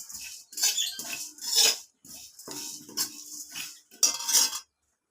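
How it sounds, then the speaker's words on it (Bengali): Whole spices are stirred and dry-fried in a pan, and a spoon scrapes and clinks against the metal in quick uneven bursts separated by short pauses, close and clear. "তো এবার এগুলোকে আমি নাড়াচাড়া করে একটু ভেজে নেব।"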